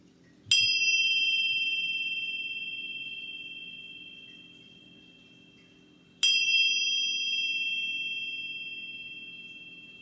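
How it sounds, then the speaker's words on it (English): Meditation chimes are struck twice, several seconds apart, each giving a clear bright ring that slowly fades, alone over a faint low hum in a quiet room. "I'm gonna chime these 3 times"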